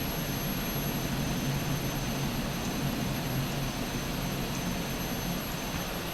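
An SK60 jet aircraft engine runs at idle throttle, a steady, loud broadband roar with a faint high whine that holds constant throughout, heard from inside the aircraft with no voices.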